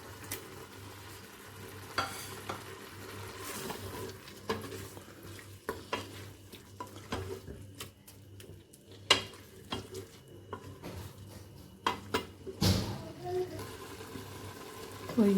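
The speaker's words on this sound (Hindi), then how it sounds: "इसी मसाले के साथ ही मैं इसमें चिकन पहले डाल लेती हूँ।" Raw chicken tipped into frying masala for a Pakistani aloo chicken shorba, with a steady oily sizzle and scraping stir strokes in the pan, interrupted by occasional utensil knocks and clatter.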